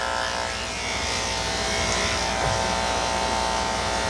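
Electric clippers run on a senior dog's legs, a steady close-up buzzing hum that holds at even loudness throughout with no talk.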